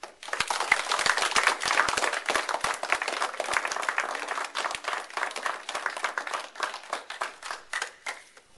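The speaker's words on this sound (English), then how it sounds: "Can we all have, a round of applause for our new scouts?" A room full of people at a Boy Scout Court of Honor claps for new scouts, a steady patter of many hands of moderate loudness that carries on for several seconds.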